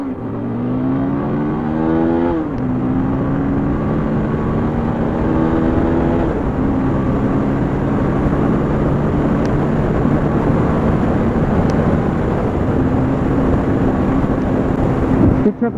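A TVS Apache 200 motorcycle rides at about 110 km/h, its engine drone and rushing wind loud and constant, with a brief shift in engine pitch early on and no talking.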